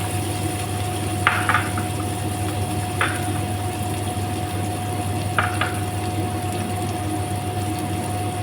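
Onion and garlic frying in a pan give a steady, even sizzle, with a few brief clicks of a utensil against the pan and a low background hum underneath.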